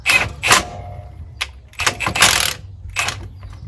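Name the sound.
impact wrench tightening bolts on Dodge Ram front end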